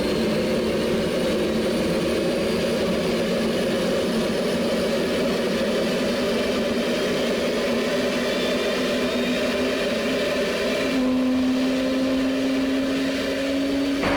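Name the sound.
Concorde jet engines running during pushback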